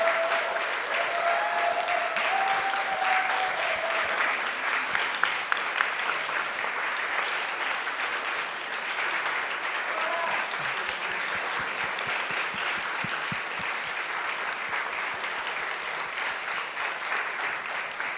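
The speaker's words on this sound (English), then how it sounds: "give applause and appreciate so much to all the panelists this morning" Sustained audience applause for the panelists at the close of a morning panel session, a dense steady clatter of many hands lasting the whole stretch, with a brief voice faintly heard near the start.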